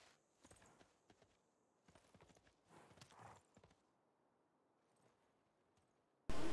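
Horses' hooves clip-clop in a strategy video game as a general leads them to attack a city, a series of separate light clops spaced irregularly across the moment with short quiet gaps, then a sudden loud burst at the end.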